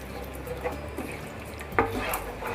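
A spoon stirs tomato sev sabzi, Marwari dhaba style, in a pan with water added and brought toward a boil, making a few scraping knocks against the metal over a low bubbling hiss.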